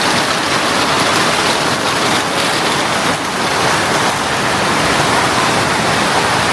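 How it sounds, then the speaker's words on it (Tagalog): A sudden heavy rain shower in Japan pours down as a dense, steady hiss that stays loud and unbroken for the whole stretch, with no voices. "Biglang umulan."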